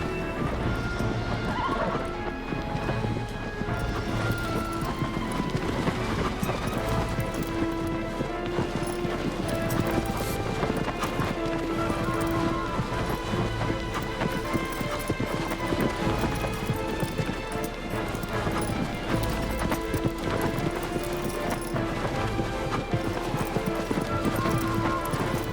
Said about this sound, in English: I'm gonna stand up on the horse.